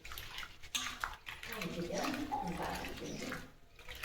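Water splashes and sloshes close by as soaked urad dal is rubbed and rinsed by hand in a bowl, with a steady, continuous washing sound.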